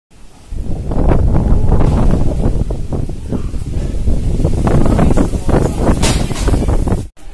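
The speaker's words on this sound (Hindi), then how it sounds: "अभी इतनी हवा चली और अब बारिश भी आनी शुरू हो गई है" Strong wind in Dehradun buffets and roars continuously, loud and close, with gusty rustling that cuts off abruptly near the end.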